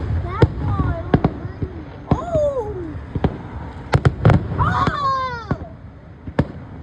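Festival fireworks going off in a series of sharp, loud bangs spaced across the scene, with crowd excitement and people talking and exclaiming throughout.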